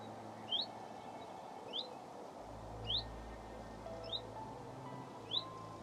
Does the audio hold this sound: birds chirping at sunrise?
yes